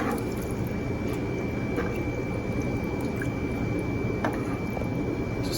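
Canned tomatoes being stirred into a pot of beef vegetable soup make a thick, wet squelching and sloshing sound, steady and close, with faint drips over the liquid churn.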